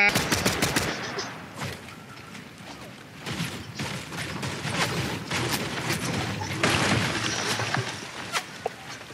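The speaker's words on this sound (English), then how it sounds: "Someone's shooting at us, bro. I can hear bullets flying past my head." Bursts of automatic gunfire ring out in the video game Fortnite, rapid overlapping volleys and sharp single shots recurring across the whole stretch at close range.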